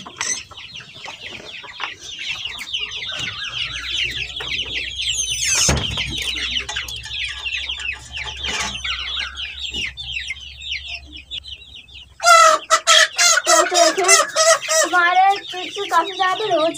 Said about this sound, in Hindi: कुछ तो ना बांग भी थोड़ी देने लगे हैं